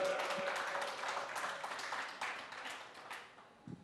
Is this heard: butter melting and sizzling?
no